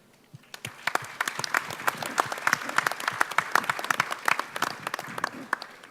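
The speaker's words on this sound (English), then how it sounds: "give Mr. Jason Crilly a round of applause" Scattered audience clapping at a blockchain marketing panel, a round of applause in memory of Jason Crilly, building from a few hands to a dense, moderately distant patter that holds for several seconds.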